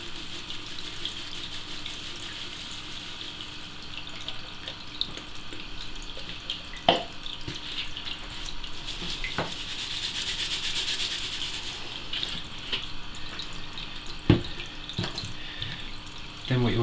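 Aquarium fertiliser salts tipped from a packet into a plastic dosing bottle, a soft continuous granular pouring hiss with a couple of sharp taps and knocks, close by and fairly quiet, with no talking.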